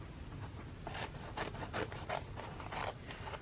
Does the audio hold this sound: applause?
no